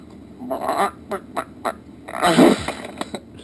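A radio caller vocally imitates a Bigfoot call in a chicken-like way: several short squawking, clucking bursts, then a louder, longer squawk partway through, close to the mic and with no other talk.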